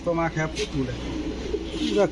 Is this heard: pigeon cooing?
yes